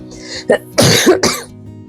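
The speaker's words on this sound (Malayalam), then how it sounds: "തണുപ്പടിക്കുമ്പോഴാണ് ഇപ്പം ചുമ വരുന്നത്." Three sharp coughs close to the listener, one short cough followed after a pause by two harsher, longer ones in quick succession.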